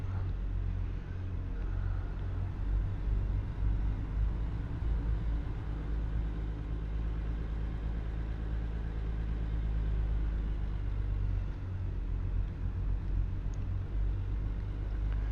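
In American Truck Simulator, a Mack Superliner truck's engine pulls away with a deep, steady low rumble and a faint rhythmic chuffing beneath it, continuous and close, with no talk.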